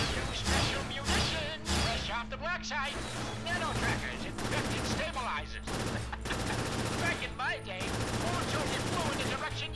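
Machine gun fire in the game Cryptark comes in rapid, loud bursts with crashes and mechanical noises, continuous across the stretch, while a voice speaks over the gameplay.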